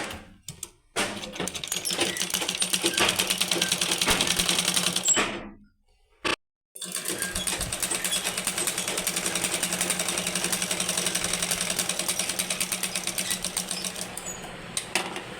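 A sewing machine stitches a blouse in fast, even mechanical bursts, loud and close, pausing briefly before running on again.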